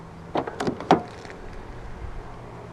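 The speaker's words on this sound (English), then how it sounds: "To lock the car, press the black button on either of the front door handles." A few quick mechanical clicks and a short whirring clunk as a 2017 Kia Sportage locks with keyless entry, then quiet background.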